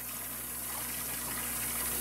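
Steady stream of water pushed by a pump from a test rig lifting water over ten feet high, a constant dense gushing rush with a low steady hum beneath, close and even.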